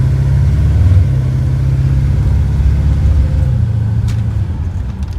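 A modified 1955 Chevrolet Bel Air rolls forward slowly, its engine a steady loud low rumble heard from inside, with no talking.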